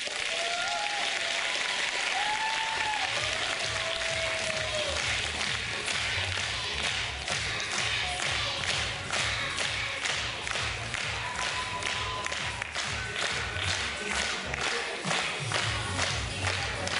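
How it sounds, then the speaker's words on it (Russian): A school audience gives child performers sustained, stormy applause after a final song, dense clapping with rhythmic accents and low thumps, moderately loud and continuous throughout. "Под бурные овации."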